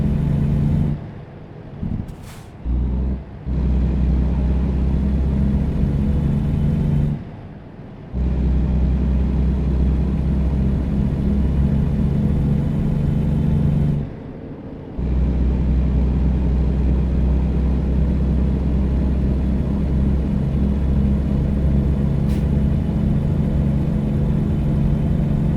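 Volvo truck engine droning steadily in American Truck Simulator, a loud low continuous rumble cut by a few brief drops, likely gear shifts, then holding an even tone to the end.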